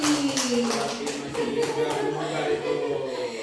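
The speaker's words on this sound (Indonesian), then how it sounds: "Tepuk tangan untuk Bu Hosi" A group of teachers gives a short round of light clapping for a colleague, scattered hand claps mixed with a voice over the room's background.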